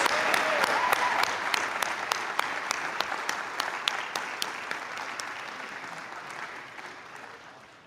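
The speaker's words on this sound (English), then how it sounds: "Let's give them a warm round of applause" An audience claps steadily for a student trustee and his mother at an 80th anniversary press conference, sustained applause that gradually thins toward the end.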